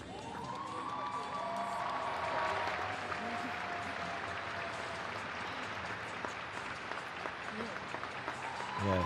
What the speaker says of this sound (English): soaking up the applause